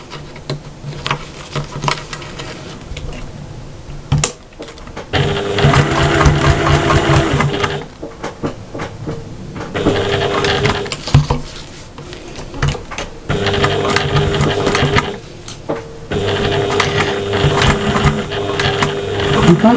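A sewing machine stitches a cross body bag in several bursts of rapid whirring, each lasting a few seconds and separated by short pauses, with no talk over it.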